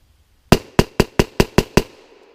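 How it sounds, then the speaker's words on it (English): Rapid-fire gunshots with Federal ammunition, shot outdoors on a hill in the woods: seven sharp, loud cracks in quick, even succession, each with a short decaying echo, then silence. "Let's try rapid fire with this one."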